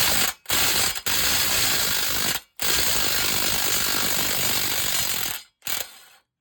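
A hand ratchet clicks in quick rapid runs while loosening the two AC compressor mounting bolts on a 2008 Acura MDX, with several short pauses between bursts, close up and fairly loud, with no talking.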